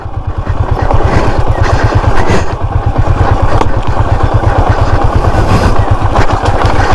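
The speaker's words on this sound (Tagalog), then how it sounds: "binababa namin yung motor namin dito." A motorcycle engine chugs loud and close while being ridden down a rocky mountain trail at an adventure park, a steady rapid low thumping with rattles and clatter throughout.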